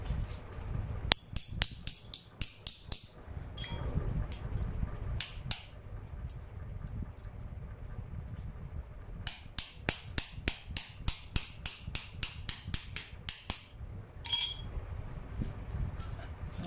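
Sharp metallic hammer blows drive a nail into a medieval armour hinge, arriving in quick bursts of ringing strikes separated by short pauses, close and clear.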